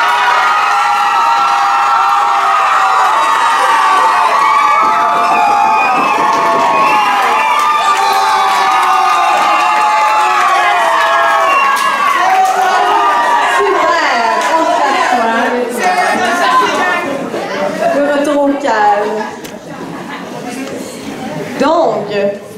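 Audience at a Quebec elementary school graduation ceremony, a loud continuous crowd roar of cheering, children shouting and whoops with some clapping, sustained close throughout and easing near the end, voices mixed in.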